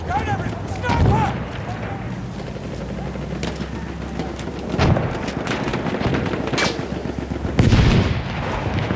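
Gunshots in the video game Battlefield 1 during a fight over an objective, with sharp bursts at intervals over continuous battle noise and people talking throughout.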